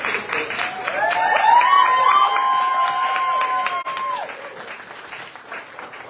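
Live audience at a poetry open mic and reading breaks into sustained applause, a thick wash of clapping that swells and then tapers over several seconds, with a brief tonal squeal running through the middle.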